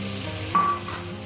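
Sizzling oil as drumsticks fry and spice-paste water is poured in, a steady hiss that swells briefly with the splash, close by with no talk.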